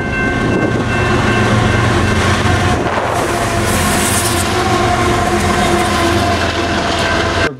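BNSF freight locomotive 6947 rolls eastbound through Galesburg at dawn in snowy weather, a loud, close, continuous rumble with steady clickety-clack of wheels over rail joints and a brief hint of horn, no voices.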